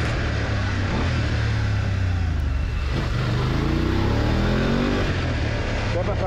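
A motorcycle engine runs nearby with a steady drone whose pitch rises and falls as it revs, under overlapping voices.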